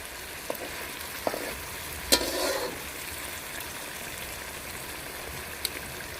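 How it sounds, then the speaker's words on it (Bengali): Fish fries in a pan with green chilli and raw tomato, giving a faint, steady sizzle with a few soft clicks and one brief louder stir. "কাঁচা ঝাল কাঁচা টমেটো দিয়ে মাছগুলোকে একটু ভাজা ভাজা করে খাই"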